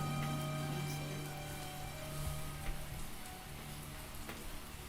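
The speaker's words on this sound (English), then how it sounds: "Oh, it's raining." Steady rain patters in a continuous hiss with occasional distinct drops, fairly faint, alongside a low hum in the background.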